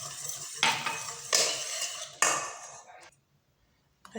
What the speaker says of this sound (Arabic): غادي نخفق البيض مع سنيده.